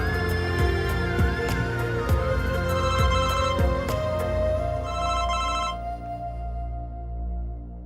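A telephone rings with rapid repeated electronic bell tones in steady bursts, fairly loud and close, then stops partway through as background music carries on.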